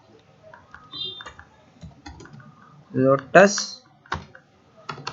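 Typing on a computer keyboard in quick clicking bursts, close up, mixed with someone speaking throughout.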